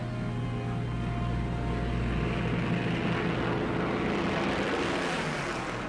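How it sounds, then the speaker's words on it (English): A Second World War Spitfire fighter taking off at full throttle, a loud, steady propeller-engine roar holding for several seconds with no voices over it. "Took a deep breath and opened the throttle, and the Spitfire took off like an electric eel."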